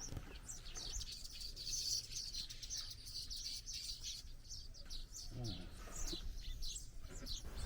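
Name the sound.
birds chirping by a canal in Thailand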